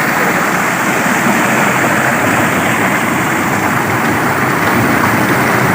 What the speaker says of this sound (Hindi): ये निकल आया जी पानी